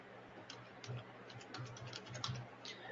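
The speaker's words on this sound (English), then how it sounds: "let me just once again type it on the Google's browser" Fingers type on a computer keyboard into a Google browser search bar, a quiet run of quick, irregular key clicks with brief pauses and no voices.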